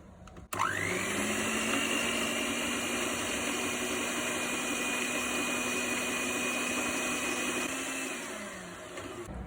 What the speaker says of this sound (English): in your electric mixer or hand mixer or just with a whisk and a bowl, you put brown sugar and salted butter